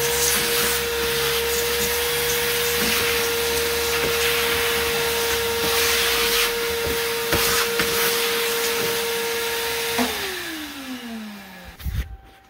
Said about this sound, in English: let me do a quick vacuum